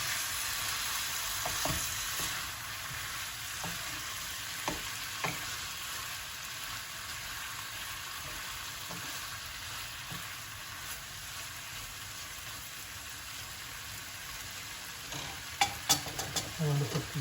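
Prawns and cashews fry in a pan with a low, steady sizzle that goes on the whole time, broken by a few faint stirring clicks and a burst of clatter near the end.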